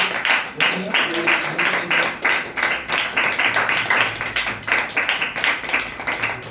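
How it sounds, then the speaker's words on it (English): An audience claps for a participant at a storytelling competition, a dense patter of hands, fairly close and steady for several seconds. "Clap for this."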